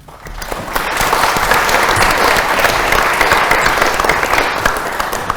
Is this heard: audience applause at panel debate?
yes